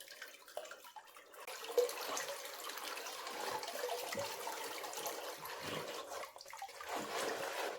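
Clay slurry water poured through a clogging screen gives a continuous rushing, trickling wash of water with a few splashy surges, fairly faint and close.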